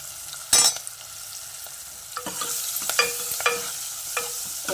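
Green chillies and onions frying in a pan with cumin and turmeric for a carrot-tomato rasam, a steady close sizzle broken by sharp stirring scrapes and clatters.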